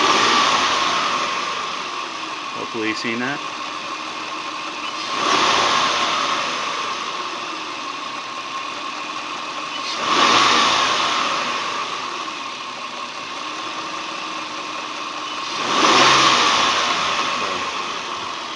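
A car engine idles steadily and surges in three short throttle-snap revs spaced about five seconds apart during EGR fault diagnosis; a voice briefly speaks early on.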